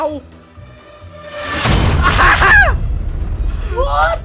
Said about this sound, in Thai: มันจมตีด้วยแรงระเบิดด้วย